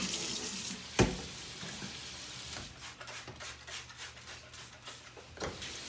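Vegetables are rinsed under a running kitchen tap, a continuous close water hiss with splashing and a sharp knock near the start, steady throughout with no talking.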